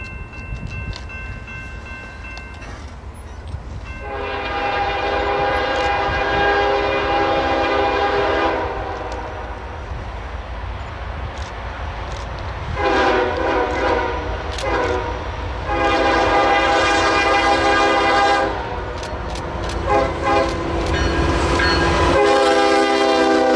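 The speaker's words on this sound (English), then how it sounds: "we catch southbound manifest train 35Q." Southbound freight manifest train passing at Front Royal, Virginia, its horn sounding in several long loud blasts over the steady rumble and clatter of the railcars, with no talk.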